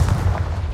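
The Confringo fire spell in the wizarding video game Hogwarts Legacy going off in a battle arena, a single loud, close, booming blast with a low rumbling body that fades quickly.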